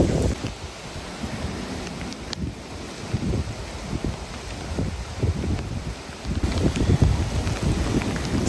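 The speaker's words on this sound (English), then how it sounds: "It's a huge storm for the last couple of days." Storm outdoors with gusting wind buffeting the microphone and rain, an uneven rushing noise with repeated low thumps and surges, fairly loud throughout, no speech.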